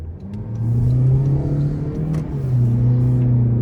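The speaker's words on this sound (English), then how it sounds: "let's go ahead and take this 2024 Corolla Hatchback SC out on the road for a test drive" A 2024 Toyota Corolla Hatchback SE with a CVT accelerates on an open road. The engine drone is close and steady, with a smooth, rising hum and no talking.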